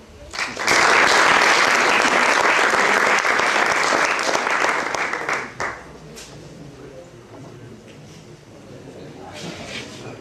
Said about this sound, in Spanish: un aplauso a Claudio